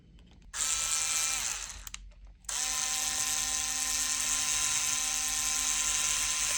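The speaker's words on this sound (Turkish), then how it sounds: "Hemen bunu da buraya da vida atacağım." A power screwdriver drives a screw into a handmade bag, giving loud buzzing motor whines that start, pause briefly and then run steadily, with no talk over them.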